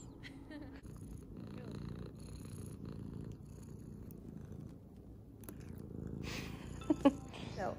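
A cat purrs softly and continuously near the microphone, a low steady rumble at quiet level, with a faint brief voice toward the end.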